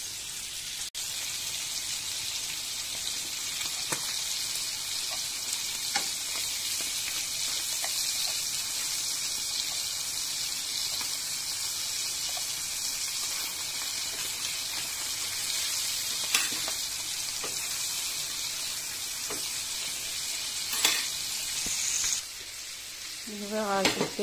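Fries pre-cooking alongside lamb slices in a pan give a steady, close sizzle that holds throughout, with a few faint clinks and pops and a brief clatter near the end.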